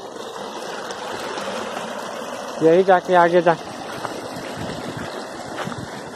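A stream near Sanam waterfall outside Ranchi, Jharkhand, rushes with a steady broad wash throughout, while someone speaks briefly over it in the middle.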